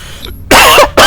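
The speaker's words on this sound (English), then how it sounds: "Sorry for the coughing" Two loud, harsh coughs from one person, close up, the second following shortly after the first, with a faint quiet stretch before them.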